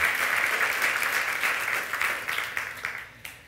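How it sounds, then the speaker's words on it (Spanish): Church congregation applauding at a Sunday service, a dense, steady wash of many clapping hands that holds for several seconds before thinning and fading toward the end. "Dele un aplauso al Señor. Déselo bien fuerte."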